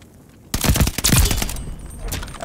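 Call of Duty: Vanguard gunfire starts suddenly after a brief quiet lead-in: a fast, loud burst of shots close by, with the rattle thinning out toward the end.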